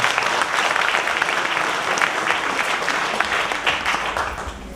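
An audience at a healing gospel program applauds steadily and loudly throughout, a dense continuous wash of many hands clapping with no voices standing out.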